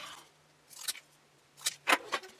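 Paper being cut into a small triangle with scissors during puppet making: a few short, crisp snips spaced apart, quiet and close, with no talking.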